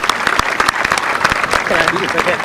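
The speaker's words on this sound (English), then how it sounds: "Give your hand a round of applause." A crowd claps in a burst of sharp, close hand claps that rolls into steady applause, with voices heard among it at an event for Philippines versus New Zealand.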